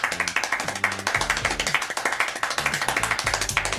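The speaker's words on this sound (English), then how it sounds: "this man is the fastest clapper, being able to do 14 claps per second." Rapid hand clapping by one man at about 14 claps per second, extremely fast and even, a steady rattle of sharp claps packed close together, loud and nearby.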